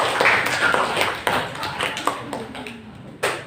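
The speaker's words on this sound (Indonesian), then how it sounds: "tepuk tangan untuk terbaik" Scattered clapping from a classroom group after student presentations: a few sharp claps that thin into sparse isolated ones, with faint voices in the background.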